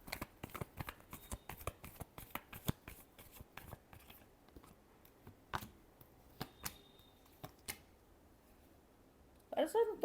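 Tarot cards being shuffled in a quick run of crisp riffling flicks, close and fairly quiet, then a few spaced single snaps and a short burst of handling at the end.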